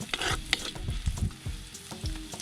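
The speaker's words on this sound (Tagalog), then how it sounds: "simulan na nating maggisa ng ating upo. Unahin natin tong luya." Ginger sizzling in a hot pan as it is stirred and sautéed for a bottle gourd dish, a bright crackle under repeated scraping spatula strokes, close and lively, with no talking.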